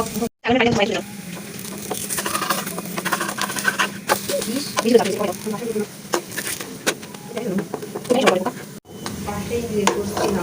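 Paratha sizzles in hot oil in a pan while being stirred and flipped, with steady frying crackle and scraping clinks in a shared mess kitchen, and occasional faint voices in the background.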